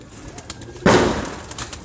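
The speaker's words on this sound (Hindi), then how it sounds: "फैसल भाई का बड़ा पुराना कबूतर है, उसके घर का पट्टा है ये।" A high flyer pigeon at a pigeon setup in Multan makes a sudden close burst of noise, like a flutter of wings, over faint background sound.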